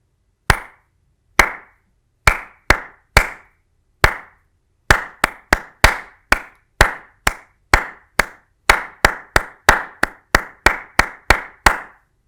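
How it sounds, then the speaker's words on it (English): A single pair of hands claps a triplet rhythm in 3/4 time, sharp close claps in groups, sparse at first and then quicker and evenly spaced, alone with no other sound. "I'm going to clap this particular example so that you can see how the triplets work."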